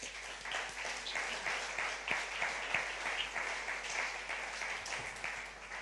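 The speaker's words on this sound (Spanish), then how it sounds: "Denle un aplauso" A church congregation bursts into sustained applause during a sermon, a dense, steady wash of many hands clapping at moderate volume for about six seconds, with no speech over it.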